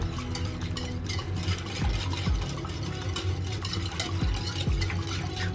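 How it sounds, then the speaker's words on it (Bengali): Yeast being stirred into warm milk, a spoon clinking and scraping against the bowl in irregular strokes over a low steady background, close by with no talk. "এখন একটু মিক্স করে নেব দুধের সাথে।"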